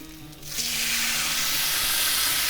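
Grease-dipped corn tortillas for birria tacos land on a hot flat top and burst into a loud, steady sizzle that swells after a soft start and holds as a close, bright hiss.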